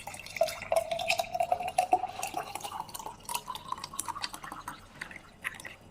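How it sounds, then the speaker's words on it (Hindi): Jaggery sharbat being poured into a glass: a steady stream of liquid with dripping and splashing, a faint clink of glass, close and clear with no talk. "मैं आपको अब गिलास में डाल के दिखाती हूँ"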